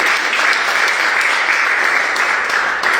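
A church congregation claps loudly and continuously during a worship service, a thick, even roar of many hands with no pauses.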